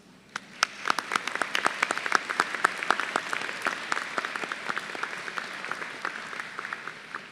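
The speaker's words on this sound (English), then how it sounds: "Please give all of those who have supported you during these important years a round of applause." A commencement crowd claps in a round of applause for the graduates' supporters at a winter graduation ceremony, a dense steady patter of many hands with sharp individual claps popping out, lasting throughout and fading slightly toward the end.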